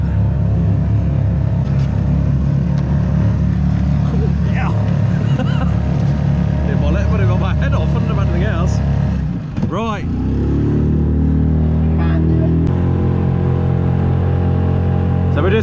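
A small outboard motor on a dinghy drones loudly and steadily throughout, with a brief dip in pitch as the engine note shifts partway through.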